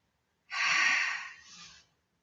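One long, forceful exhale during a Pilates exercise, close and airy, pushed out hard at first and tapering off over about a second and a half, framed by silence.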